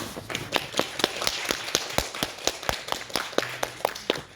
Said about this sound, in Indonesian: Kita kasih aplaus untuk Kak Ismi Nur Anissa.